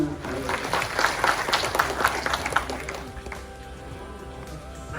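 An audience claps together at a meeting held at BMS Engineering College in Bengaluru. The applause starts loud and dense, then thins and fades over the last couple of seconds.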